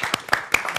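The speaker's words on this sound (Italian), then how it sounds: "Sta l'applauso." A short burst of audience applause at a talk with a film director and composer, a few sharp separate claps from a small crowd, brief and moderately close.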